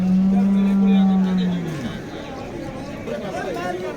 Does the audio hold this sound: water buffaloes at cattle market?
yes